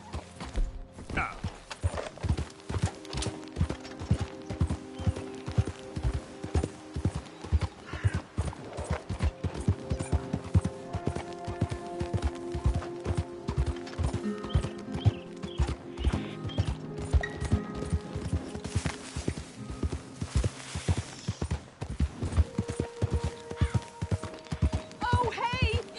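A horse gallops in Red Dead Redemption 2, a steady rapid clip-clop of hooves running throughout with occasional snorts, accompanied by music.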